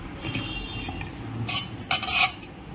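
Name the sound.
stirring fish pakodi batter in a bowl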